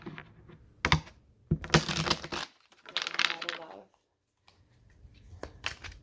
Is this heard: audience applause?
no